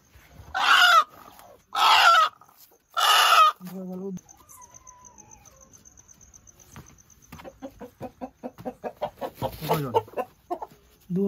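A large village rooster of about two to two and a half kilograms, kept for sale near the Damodar river, gives a few loud harsh calls, then a quickening run of close clucks, with a voice briefly heard.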